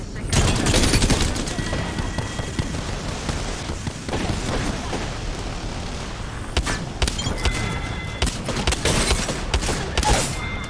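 Dense bursts of gunfire and rapid automatic fire in the video game Apex Legends, loud and continuous with thumping impacts, a voice speaking over the shooting.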